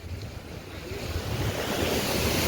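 Sea surf breaking on the shore near a lighthouse: a steady, close roar of waves with wind buffeting the microphone, swelling louder toward the end, with no talking.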